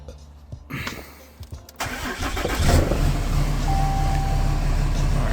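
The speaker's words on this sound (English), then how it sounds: "Alright, got the truck on." A 2015 Ram 2500 with the 6.7 Cummins diesel cranks briefly with a few clicks, then fires up and settles into a loud, steady low rumble close by.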